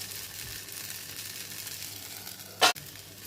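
A handvo batter cake made with black urad dal and rice sizzles softly in a pan on a slow flame after being flipped, a low steady crackle with one sharp clatter near the end.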